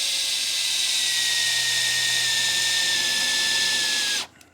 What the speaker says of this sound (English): and then I end up drilling through